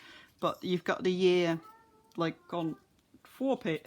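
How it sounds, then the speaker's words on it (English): A pet cat meows repeatedly and close by, one long drawn-out call among shorter ones, mixed in with a person speaking. "That's my cat. He's being annoying."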